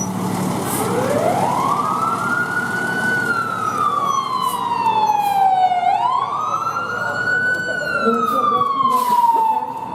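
A loud wailing siren rising and falling in long sweeps from a nearby ambulance at a vehicle extraction demonstration, with engine rumble underneath.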